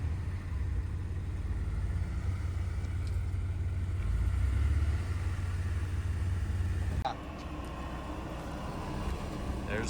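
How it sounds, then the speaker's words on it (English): A 1989 Honda Legend LS with a 5-speed rolling in at a Honda Cars and Coffee meet, a steady close engine rumble that drops off after about seven seconds, with voices talking over it. "Here's Andrew's 1989 Legend LS 5-speed."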